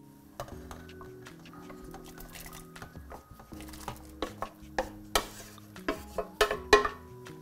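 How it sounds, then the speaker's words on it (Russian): Potatoes go into a pot of boiled lentils for an Armenian lentil soup and get stirred, giving quiet scraping and clinking from the spoon and pot that grow into louder, irregular knocks toward the end. "Идем закладывать картофель в нашу кастрюлю с вареной чечевицей."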